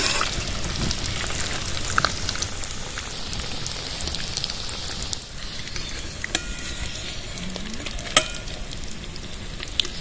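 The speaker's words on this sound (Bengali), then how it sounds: "এক পাশ ভাজা হয়েছে আর এক পাশ ভেজে নেবো" Rohu fish fingers fry steadily in a pan over low to medium heat, a dense continuous sizzle with scattered pops and crackles, close and even throughout, with no talking.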